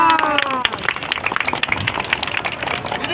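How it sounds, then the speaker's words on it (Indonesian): An audience claps together in a dense burst of applause that stays fairly loud and continuous, with a few voices mixed in at the start. "Oke, tepuk tangan."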